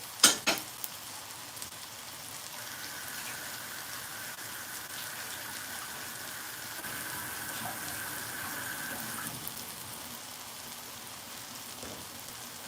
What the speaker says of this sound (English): Going to go wash my hands